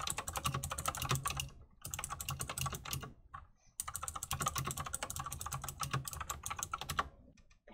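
Steady computer keyboard typing with a couple of brief pauses, close and fairly quiet, alone with no talking.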